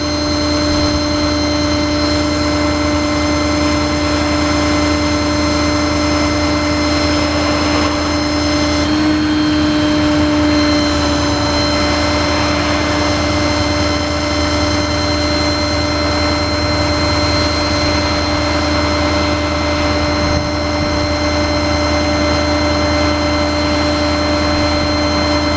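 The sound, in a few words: winch on Ford F550 mechanics truck crane operating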